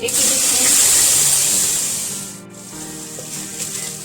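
Ginger garlic paste frying in three tablespoons of hot oil in a pot, giving a steady broadband sizzle and hiss that is loud at first, then eases and continues more softly with faint clatter.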